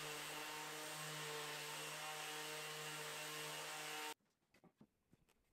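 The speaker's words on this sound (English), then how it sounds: "It was time to do some sanding before the assembly." Loud, steady whine of a power sander grinding on wood side-table parts for about four seconds, then it cuts off, leaving light knocks and handling sounds.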